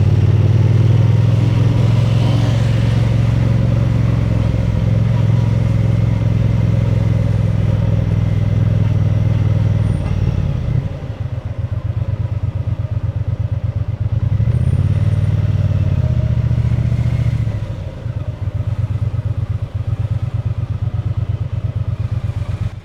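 A Triumph Bonneville T120 liquid-cooled motorcycle engine rumbles up close in hot city traffic, idling and revving in surges amid traffic noise, with a loud, continuous low drone throughout.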